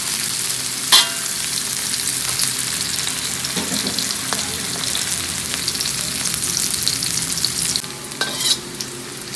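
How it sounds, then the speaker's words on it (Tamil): Onions frying in oil until golden for a chicken curry: a close, steady sizzle with a few clinks and scrapes of stirring, no voices. "வெங்காயம் நல்லா பொன்னிறமாக வர வரைக்கும் அதை வேக வைக்கணுமாமா?"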